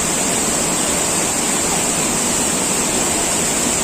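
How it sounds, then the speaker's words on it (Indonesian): Rushing river water at the Lubuk Kudo pool, a loud, steady broadband roar close by that holds unbroken throughout, with no voices over it. "Airnya luar biasa besar ya, sobat."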